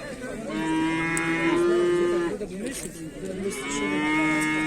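Calves mooing at a livestock market, with two long, loud, drawn-out moos close by and a short pause between them.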